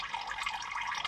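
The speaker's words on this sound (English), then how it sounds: "just hold it there for a little bit till that sort of part drains out of the filter" Engine oil draining from a removed oil filter on a Mitsubishi Triton 2.4 turbo diesel 4N15, a steady close trickle and splash of liquid with no voices.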